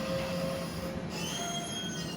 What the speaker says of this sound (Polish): ET22 na uciągu.